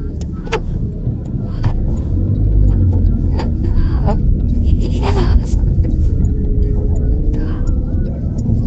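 Congested road traffic on an alternative route through Cigondewah and Cijerah, a constant dense rumble of engines and passing vehicles, heard from inside or near a car, with no talk.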